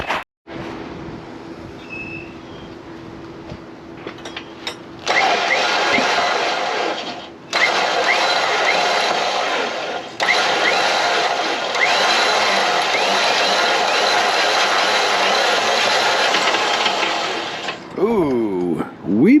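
A vehicle winch reels in synthetic replacement line with a steady loud mechanical whine that cuts out and restarts in bursts, the cable jumping and skipping on the drum.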